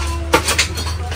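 A heavy nonstick kadai and its lid knocked and handled, giving two quick metallic clanks close by over a steady low hum.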